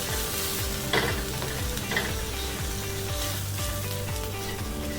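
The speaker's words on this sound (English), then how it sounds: "I'm just going to cook the rawness out of these spices now as well." Ground coriander and turmeric fry in a cast iron pan for lamb keema curry, a steady close sizzle broken by the regular scrape of a spoon stirring.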